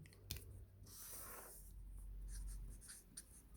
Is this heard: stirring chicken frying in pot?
no